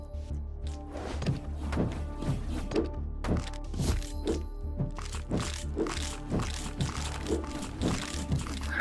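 Combat in the video game Death Must Die produces a rapid series of crunching, thudding hits, roughly a dozen punchy impacts in an irregular rhythm, close and prominent over a low game backdrop.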